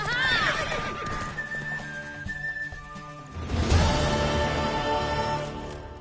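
In a video game, a horse neighs and whinnies loudly, then hooves clip-clop while a faint whistle-like tone rings and another burst of horse noise rises midway.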